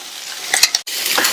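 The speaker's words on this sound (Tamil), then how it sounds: "பெருசு பெருசா கட் பண்ணி எண்ணெயில வதக்கிக்கங்க." Close sizzling of onions sautéing in oil, with a couple of sharp clicks and scrapes from stirring.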